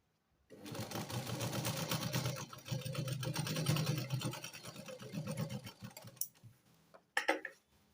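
A sewing machine stitches a garment seam in a steady, fast mechanical whir with ticking needle beats, running for several seconds, slowing, then stopping before a few brief handling clicks.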